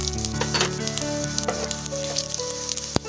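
Whole cumin and coriander seeds crackling and sizzling in hot oil in a pan, a steady close hiss with scattered pops and one sharp clatter near the end, no talking.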